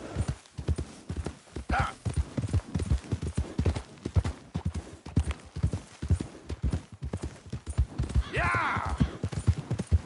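Horse hooves clip-clop at a steady trot in Red Dead Redemption 2, loud and close with a regular rhythm, joined by brief whinnies, while a voice speaks a couple of short words.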